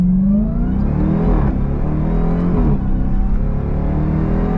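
A 2024 Dodge Durango SRT Hellcat supercharged SUV engine revs hard under acceleration, loud and close, with rising and falling pitch sweeps through gear changes and a steady deep roar throughout.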